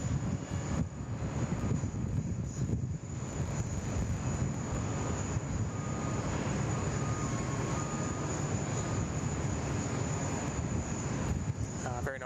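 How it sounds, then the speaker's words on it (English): Air India airliner on its takeoff roll at Sydney Airport, a steady broad roar of jet engines with wind rumble, sustained and fairly distant, with someone talking over it. "Very nice departure there from the Air India, nice and long. Nice long takeoff roll there."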